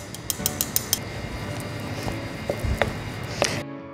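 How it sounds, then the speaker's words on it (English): Anzac biscuit mixture stirred in a bowl, with a run of quick clinking scrapes at the start and then scattered knocks and taps of the utensil against the bowl, close and alone. "And then we'll stir this up and see how we go."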